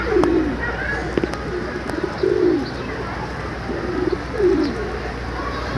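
Pigeons cooing as rain begins, several soft, throaty coos repeating at intervals of about two seconds, fairly close and clear over a steady background hiss.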